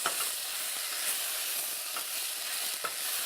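A spoon scrapes and stirs rice mixed with ginger paste in a pan, with a soft steady sizzle and faint hiss underneath and occasional light clicks of the utensil against the pan.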